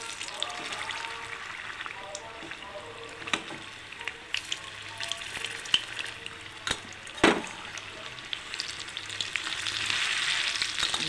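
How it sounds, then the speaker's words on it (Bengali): Khesari dal fritters (bora) frying in oil and being flipped: a soft, bubbling sizzle under scattered clicks and taps of a spatula, with one sharper knock midway and the frying swelling louder toward the end. "বড়াগুলো এবার আমি উল্টিয়ে দিচ্ছি।"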